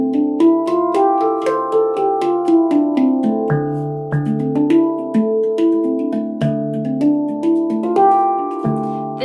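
A Koru nitrided steel handpan in a D Celtic scale rings out a flowing melody. Clear resonant tones overlap and sustain, each note struck one after another at close range, with no talking.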